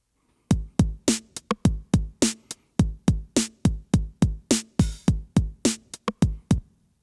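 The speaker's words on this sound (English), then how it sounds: "The Roland TR 909 unprocessed kit sounds like this." Unprocessed Roland TR-909 drum kit sample playing a steady pattern of punchy kicks, snares and hi-hats, dry and up close with no talking.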